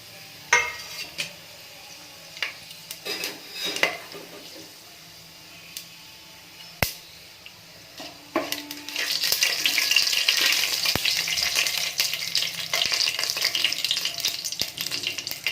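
Spices and seasoning dropped into hot oil for cabbage rice bath, first a few scattered clinks and scrapes of stirring, then a loud, steady frying sizzle that fills the last half.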